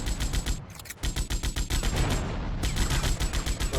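Rapid automatic shotgun fire in GTA Vice City, a dense run of loud, close blasts that breaks off briefly near the one-second mark and then resumes with a steady, hammering rhythm.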